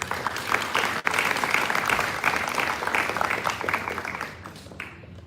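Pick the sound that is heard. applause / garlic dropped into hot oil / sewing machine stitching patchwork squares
applause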